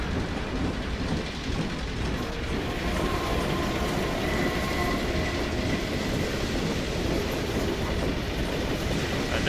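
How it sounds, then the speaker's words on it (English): A train rumbles past steadily in Half-Life 2, loud and continuous with a rolling rail clatter and a faint high whine, with no talk over it. "And a train."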